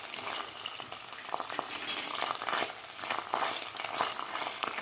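Onion fries in oil with curry leaves and ginger-garlic paste, a soft continuous sizzle broken by occasional stirring scrapes, close and fairly quiet.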